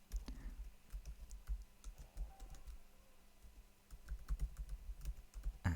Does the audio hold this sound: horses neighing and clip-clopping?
no